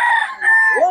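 Bull stag rooster crowing at a poultry seller's, a single loud close cock-a-doodle-doo call less than a second long, rising and falling in pitch.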